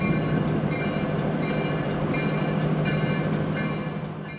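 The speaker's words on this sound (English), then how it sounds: "the train continues trundling west to pull yet another track" A long freight train of nearly 100 cars trundles west on a Union Pacific and CSX joint line in Illinois. It gives a steady, close rumble with regular wheel clacks, and the sound eases off slightly at the end.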